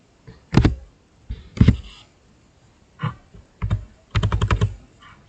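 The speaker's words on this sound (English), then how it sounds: "So I can type in cable." Keys clack on a computer keyboard in short bursts, a couple of single taps and then a quick run of rapid keystrokes, close and clear with no talking.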